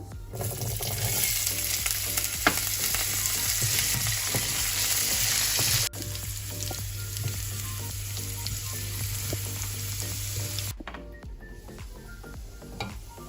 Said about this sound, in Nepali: अब यो जिरा फुरिएपछि म यसमा आलु राख्दैछु